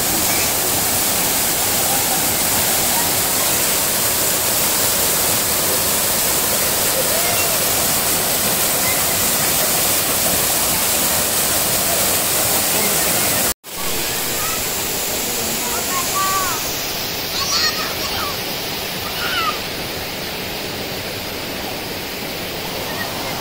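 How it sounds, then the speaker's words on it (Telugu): Waterfall cascading down over the Gubbala Mangamma temple, a steady, loud broadband rush that stays constant throughout, with a brief dropout partway and faint higher splashing afterward; no talking. "ఆ ఆలయం పైనుంచి జలపాతం జాలువారుతున్నాయి."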